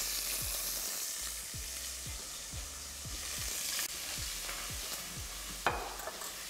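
Pieces of chicken fry in a pan with a steady, close sizzle and a hiss that never lets up, while low rhythmic thumps repeat about twice a second beneath it and there is no talking.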